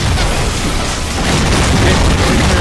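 Loud, dense rumbling booms and bursts from explosions in the video game Halo 4, during a Spartan Ops mission, filling the scene continuously and up close with no talking.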